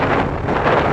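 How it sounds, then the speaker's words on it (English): Strong, steady wind roars loudly across the rider's microphone on a ZX-12R motorcycle during a windy commute, a continuous rushing noise with no other sounds. "because it's very windy today."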